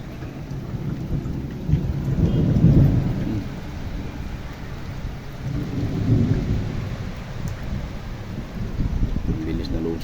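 Heavy rain and hail pour down in Madrid, Spain, in a steady, loud broadband wash with rumbling swells, gusting wind throughout and voices talking now and then over the downpour.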